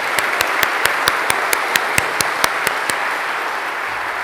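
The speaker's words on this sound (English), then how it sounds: "I'm going to give you a clap." At an evening oration event, an audience claps in a hall, broad steady applause with a few sharper, evenly spaced claps standing out near the front, fading toward the end.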